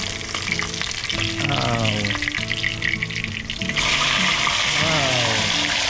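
Milkfish (bangus) frying in a pan makes a loud, continuous sizzle over background music, and a voice briefly exclaims partway through.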